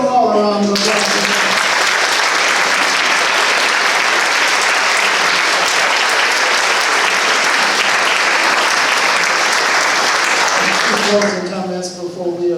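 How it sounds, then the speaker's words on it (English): A forum audience gives the city council candidates a sustained round of applause, dense and loud, with steady clapping filling the room for about eleven seconds before it quickly fades out. "Let's give them all a round of applause."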